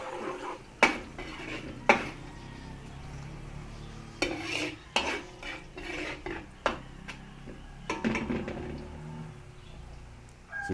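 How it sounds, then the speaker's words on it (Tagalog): Garlic cooking in a pan for a Filipino pork, beef, noodle and vegetable dish, heard as clattering metal utensils scraping and knocking against the pan in repeated sharp strikes, with a faint sizzle underneath and no talk. "Lulutuin lang po natin saglit yung ating bawang para mabango."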